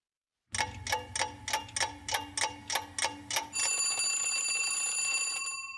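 An alarm clock rings in a rapid run of about eleven evenly spaced bursts, then settles into a continuous loud bell before fading slightly.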